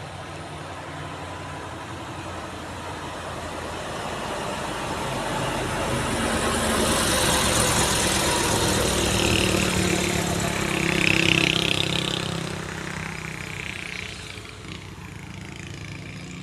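A tanker truck labours up a steep hill on the Medan to Pekanbaru road, its engine drone swelling steadily louder as it nears and peaking before easing off, with continuous broadband road roar.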